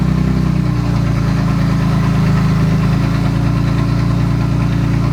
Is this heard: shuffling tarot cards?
no